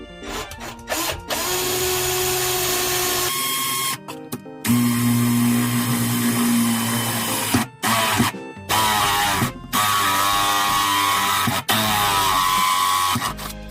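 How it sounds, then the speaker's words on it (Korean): A power drill fitted with a step bit bores a 12 mm hole for a water purifier installation, whining in long loud runs broken by brief pauses and restarts, alone without talk. "저는 요놈을 사용해서 12mm 정도의 크기로 구멍을 뚫을 겁니다."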